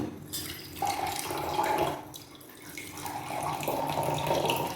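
Water is poured out for drinking on a home terrace, a steady rushing stream running close by in two long stretches with a brief lull between them.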